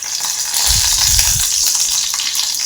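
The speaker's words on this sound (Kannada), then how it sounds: "ಈ ಥರ ಫ್ರೈ ಆಗಬೇಕಾದ್ರೇ ಇಷ್ಟೇ ಫ್ರೈ ಆಗಬೇಕಿದು." Food frying in a pan, a steady bright sizzle throughout with a brief low stirring rumble in the middle.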